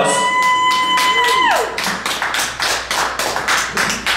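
Rhythmic, unison claps from the audience at a live band show in a small venue, steady and close, starting as a sustained ringing chord fades out.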